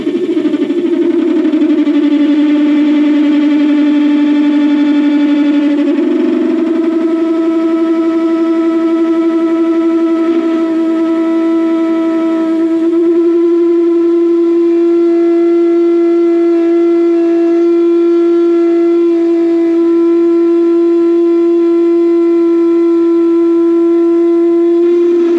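A Warco WM180 metal lathe takes a 2.7 mm diameter cut. A loud, continuous tonal squeal and whine holds steady for about twenty-five seconds, shifting pitch slightly early on, with no voices.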